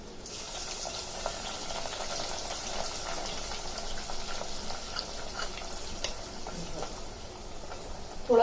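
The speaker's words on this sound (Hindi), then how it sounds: "इसके अंदर ये डालेंगे गरम मसाले। इसके बाद में इसमें डालेंगे प्याज।" Whole garam masala and onions sizzle in half a cup of hot oil, a steady broadband crackle and hiss with scattered small pops, continuous and fairly close throughout, with no talk over it.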